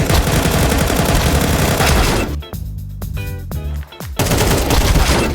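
Dense rapid machine-gun fire from a video game bursts loudly and continuously, breaks into a short pause of rhythmic mechanical clatter, then resumes at full intensity.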